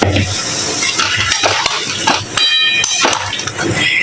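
A prawn curry is stir-fried in a pan after a little water is added, with scraping spatula strokes over steady sizzling and bubbling, close and fairly loud.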